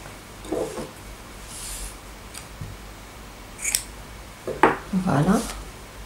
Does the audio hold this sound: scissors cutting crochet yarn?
yes